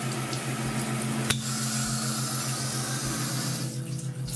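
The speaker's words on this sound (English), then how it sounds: "It's done. Shower." Shower water running in a bathroom with a newly installed steel tub, a steady close hiss of spray with a constant hum under it and a single sharp knock partway through, with no talk.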